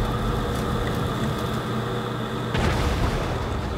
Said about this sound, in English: Wow, I'm hearing a lot of explosions.